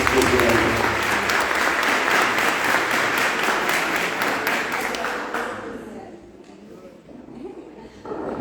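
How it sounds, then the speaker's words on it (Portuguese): Dense, sustained applause from a church congregation at a Sunday service fills the room, then tapers off into quieter scattered claps and room noise. "Então receba as palmas também."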